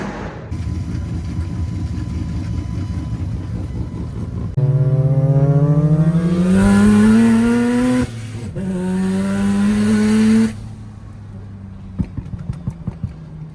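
A Mazda RX-8 with a 13B bridge-port rotary engine revs loudly nearby, rising in pitch through two long pulls with a brief drop between them. It settles back to a rough, choppy idle.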